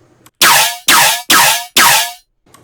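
Four loud, bright synth bass hits in a steady rhythm, each a harsh, growling burst with a sweeping tone, separated by short gaps.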